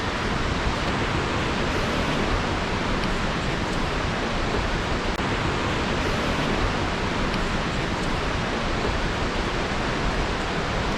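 Camp Robber Creek, fed by snowmelt runoff from Camp Robber Valley, rushes steadily at close range, a dense unbroken roar of water with no pauses or voices.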